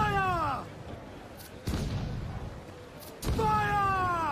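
Ship's cannons fire in Assassin's Creed IV Black Flag, with two heavy booms about a second and a half apart that each leave a rumbling tail, set between stretches of shouted orders.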